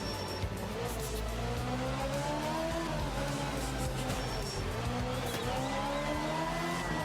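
A car in a racing video game holds a power slide, engine revving steadily while the tires squeal in long wavering tones throughout, a continuous loud mix of motor and rubber screech.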